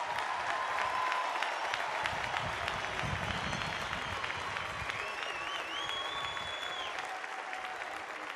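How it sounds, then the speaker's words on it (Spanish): Applause from a large congregation at an outdoor Catholic mass during World Youth Day in Lisbon, steady, dense clapping that fills the whole clip, with faint crowd voices and a few higher calls through it. "Un aplauso para todos."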